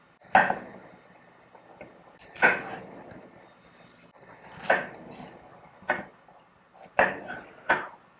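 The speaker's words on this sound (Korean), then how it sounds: "이제 호박을 좀 썰어서 준비해 줄게요." A knife cuts thick slices of zucchini on a wooden board for beef doenjang stew, six separate knocking chops spaced irregularly a second or two apart, close and crisp against quiet.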